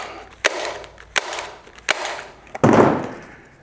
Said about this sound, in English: Staple it.